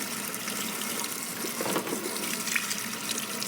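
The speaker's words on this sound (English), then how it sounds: "get this under some water, wash this residue and mud off" A rock for a Fluval Spec 5 aquarium being rinsed under a running tap, with a steady close gush of water whose splashing shifts as the stone is turned in the stream, no voices.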